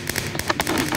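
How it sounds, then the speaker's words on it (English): Minecraft fireworks pop and crackle in quick succession within a New Year's celebration, a brief cluster of sharp bursts. "It was just really fireworks"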